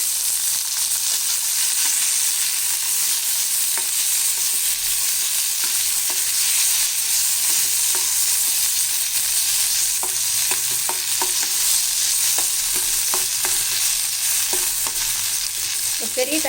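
Garlic and tomatoes sautéing in a pan for tomato peanut chutney, a steady bright hiss of frying with scattered soft clicks and scrapes of stirring, close and continuous without speech.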